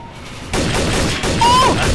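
Gunfire in the shooter game Trouble in Terrorist Town, a loud dense burst of shots starting abruptly and continuing steadily over the game's background noise.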